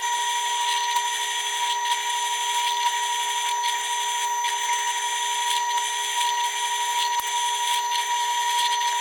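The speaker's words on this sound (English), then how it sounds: "So let's go ahead and drill it." A drill press whines steadily while boring into wood, a continuous high-pitched mechanical drone with faint rhythmic pulses from the cutting, no talking.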